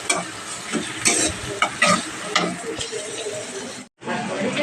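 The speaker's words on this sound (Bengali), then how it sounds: "এবার এগুলো বেশ সময় নিয়ে ভেজে নেব।" Onion, garlic and ginger fry in a pan, a loud sizzle broken by stirring scrapes, then a brief drop to near silence before the frying sound returns.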